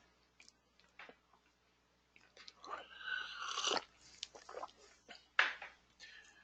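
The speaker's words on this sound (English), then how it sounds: "I don't mean to slurp my coffee" Hot coffee is slurped close to the microphone in a few short, noisy sips with quiet clicks and pauses between them.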